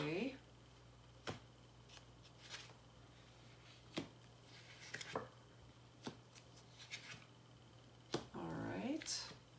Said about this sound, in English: let me go ahead and lay out the cards and let me assess what's going on